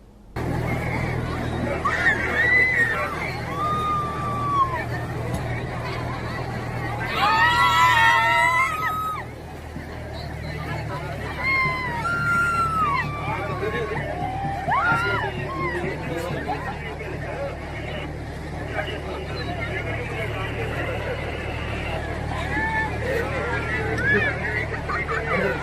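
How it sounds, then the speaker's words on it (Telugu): Crowds of devotees gather at the river confluence on the tenth day of the Saraswati Pushkaralu festival, a dense babble of many voices with scattered shouts over a steady low hum, and a news narrator speaks over it throughout. "సరస్వతి పుష్కరాలకు 10వ రోజు భక్తుల రద్దీ కొనసాగుతుంది"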